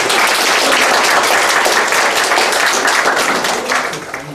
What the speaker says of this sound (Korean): 여러분 다시 한번 교수님께 큰 박수 부탁드리겠습니다.